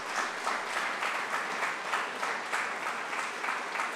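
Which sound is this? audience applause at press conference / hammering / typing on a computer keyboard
audience applause at press conference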